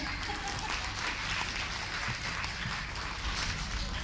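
An audience at a children's festival anniversary event breaks into sustained applause, a dense, even wash of clapping from a crowd that holds steady throughout.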